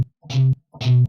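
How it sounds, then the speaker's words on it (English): Two tight, heavily distorted electric guitar power-chord chugs from the EastWest sampled guitar library, each a short loud palm-muted burst separated by silence. "Distortion chug."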